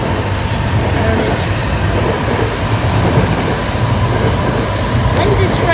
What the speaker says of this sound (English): When's this train gonna stop?